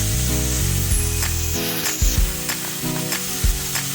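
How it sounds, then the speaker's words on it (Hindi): Masala with salt, turmeric and chili powder sizzles loudly as it sautés in a pan, a dense steady hiss broken by a few thumps and scrapes of stirring, with a hum underneath. "ये हल्का सा सॉटे हो जाएगा"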